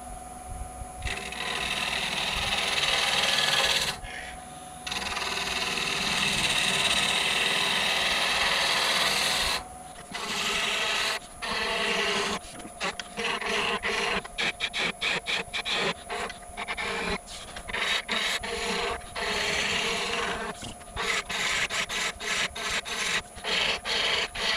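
A wooden bottle opener handle is shaped by hand with a file, producing loud, close rasping strokes, long sustained passes at first and then quicker, choppier rhythmic scrapes.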